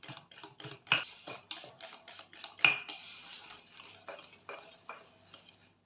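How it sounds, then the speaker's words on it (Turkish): A spoon scrapes and clinks steadily against a pot while butter and chocolate melt together, giving quick, irregular metallic taps and rasps up close with no talking. "şimdi bu şekilde karıştırıp erimesini sağlayacağım malzemelerimi"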